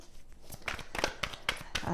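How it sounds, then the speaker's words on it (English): Tarot cards being shuffled by hand close up make a run of crisp riffling bursts and papery slaps in an uneven rhythm, with faint speech underneath. "now, while I shuffle, I have done an off-screen pre-shuffle"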